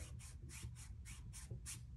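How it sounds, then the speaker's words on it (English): Soft, steady rubbing and scraping as a fishing rod reel seat slides snugly along tape on the rod blank in short repeated strokes, close up with no talking. "that's the sound of the reel seat snugly sliding on that tape"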